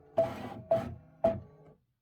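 A quilting machine stitches a fabric border in three short mechanical bursts, each rattling for about half a second before stopping, close and alone.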